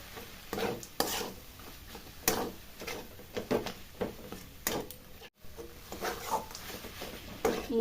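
Hands mixing mashed boiled potato with banana flower for Bengali mochar chop, giving soft, squishy pressing and kneading noises with occasional dull knocks against a bowl, close and steady without speech.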